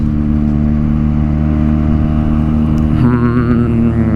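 A Benelli TNT 300 motorcycle ridden on a Sunday breakfast ride toward Anathagiri hills, its engine droning steadily and loudly throughout with wind rush, and a brief rise in engine pitch near the end.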